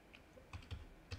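A handful of quick keystrokes on a computer keyboard while entering a command in an Ubuntu terminal, soft and close, with irregular taps and a short pause before a final press, no talking.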